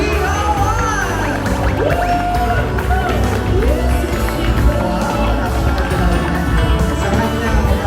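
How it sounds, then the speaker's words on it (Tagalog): A crowd claps, cheers and whoops loudly to welcome the celebrant at a debut party, with high shouts and whistles rising over steady dense applause throughout. "Isang malakas na palakpakan at sa natin malakas na hiyawan!"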